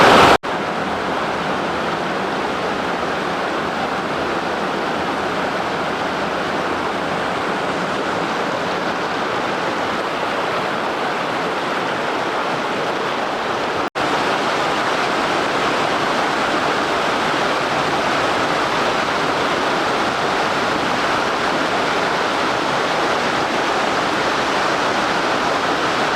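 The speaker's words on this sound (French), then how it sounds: "nous avançons tout doucement vers la" Steady, loud rushing roar of a waterfall in Kyrgyzstan, constant and broadband throughout with no pauses, a brief cut partway through, and no voices.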